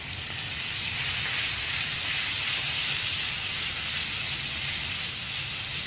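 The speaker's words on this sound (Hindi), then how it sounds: "उसके बाद मैं इसमें शामिल कर रहा हूँ दूध" Milk poured into a hot pan of chana daal, a loud continuous steamy hiss and sizzle held steady throughout, close and alone.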